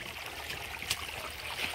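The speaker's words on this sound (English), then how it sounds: "the creek's just getting bigger and bigger with all these woods just surrounding the huge creek" A large creek flows through woods with a faint, steady trickling wash and light gurgles, plus a brief splashy tick partway through. No voices are heard.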